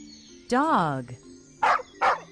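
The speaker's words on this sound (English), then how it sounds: "Dog." A dog gives a drawn-out whining howl, then two short, sharp barks close by with brief pauses between them.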